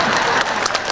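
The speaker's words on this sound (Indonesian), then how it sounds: "Mau tepuk tangan hati-hati kalian." Audience applause at a large outdoor Islamic religious gathering in Danau Pulai Indah, Kempas, Indragiri Hilir, a dense steady wash of clapping filling the whole moment at fairly loud level.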